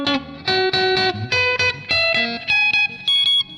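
An electric guitar with its pickup raised to high output drives a distortion effect, plucked notes ringing in loud, gritty, sustained bursts in a steady rhythm, close and alone.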